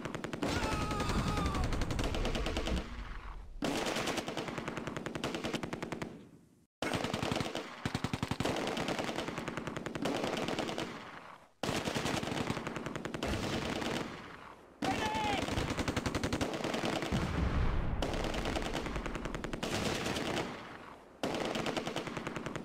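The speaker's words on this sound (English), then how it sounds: "The Bren section in the orphanage opens fire on the Granitwerfer team." Long bursts of Bren light machine gun fire from a section in the Close Combat war game rattle loudly, broken by short pauses, with a voice speaking faintly beneath the shooting.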